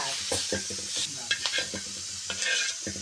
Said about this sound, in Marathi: तेल टाकलेलं आहे आजीने आता काय आजी म्हणले आता भाजून मसाला